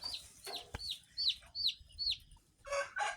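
Chickens cluck and squawk nearby in a series of short calls, with a brief thump near the start and quiet pauses between calls.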